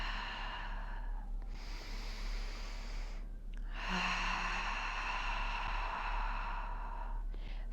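Slow, deep breaths during a yoga deep-stretch posture with hands interlaced behind the back, long airy inhales and exhales close to the mic, with a pause between them and no talking.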